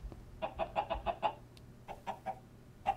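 Chickens on a chicken farm in Minecraft (Feed The Beast) cluck in a quick series of short calls, then a few more scattered clucks, close and moderately loud with no talk.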